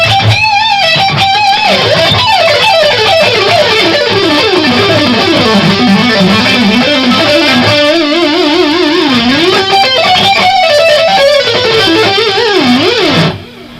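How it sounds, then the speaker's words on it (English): Loud electric guitar lead line with chorus and echo effects, playing sustained bends and fast melodic runs over a steady backing tone for about fourteen seconds, ending abruptly. "real loud lead sound with chorus and echo on"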